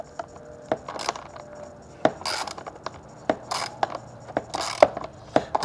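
A 13 mm ratcheting wrench tightening a hole-maker tool for a parking sensor, giving sharp metallic clicks and rasping ratchet sweeps in an irregular rhythm, close and fairly loud.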